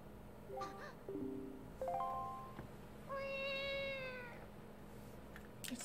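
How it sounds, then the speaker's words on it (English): Cat meows from the Wind Waker video game, a handful of separate tonal mewls, the last one long and drawn out, fairly close and clear over a quiet game backdrop with no talking. "That's the worst cat noise I've ever heard."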